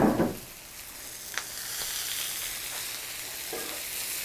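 Sausages hitting a hot grill, a soft steady hiss and sizzle that starts with a brief louder burst, then continues evenly with a couple of faint clicks, no one talking.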